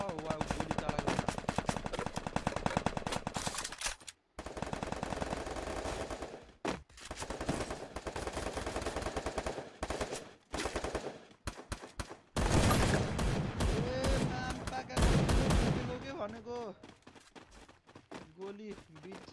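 Video game gunfire: dense, sustained rapid shooting with machine-gun bursts, loud and close, running almost continuously with brief gaps, while someone talks excitedly over the shots.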